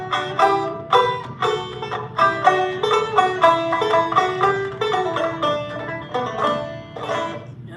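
A banjo duet plays the old tune Home Sweet Home, its rolling picked notes steady and bright, close and fairly loud, with no voices.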